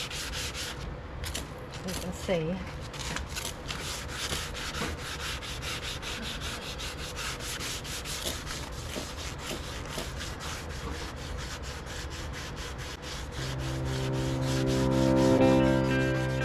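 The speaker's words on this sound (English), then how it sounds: "We got some 300 grit sandpaper. I'm just going to start sanding it all off." Wet sanding of a yellowed car headlight lens with 300 grit sandpaper, a steady rasping scrape that keeps up for the whole stretch, close and fairly loud, with a brief spoken remark near the start.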